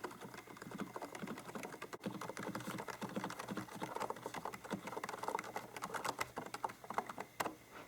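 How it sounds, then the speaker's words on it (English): Fast, muted keystrokes on a LIGHTSALT ergonomic wireless mechanical keyboard with Frozen silent switches, a soft, continuous patter of dense taps heard close and quiet, with no talking. "it feels like all the keys are fairly smooth, but again, still very satisfying to type on"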